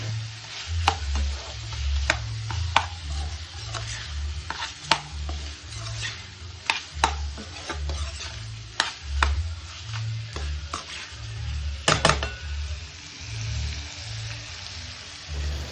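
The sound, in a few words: chicken fry with chili, garam masala and garlic stirred on high flame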